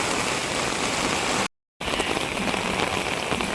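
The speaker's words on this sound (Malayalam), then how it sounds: "ഭയങ്കര മഴയാണ് പെയ്തുകൊണ്ടിരിക്കുന്നത്." Torrential rain pelts down at the Kannambra vela temple festival in Kerala, a loud, dense, continuous hiss of drops on surfaces, interrupted once by a short silent gap.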